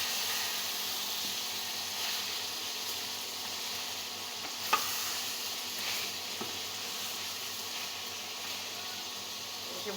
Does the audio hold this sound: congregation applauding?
no